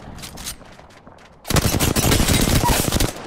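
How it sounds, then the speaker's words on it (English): Rapid automatic gunfire in Apex Legends erupts loud and close after a quieter stretch of scattered shots, continuing as a dense rattling burst. "Yo, we got all kinds of teams shooting over here, bro."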